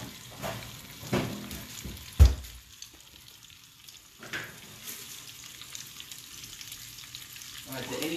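Tortellini fry in pumpkin sage butter in a pan, giving a soft steady sizzle broken by a few sharper clatters and stirring knocks, fairly faint and close.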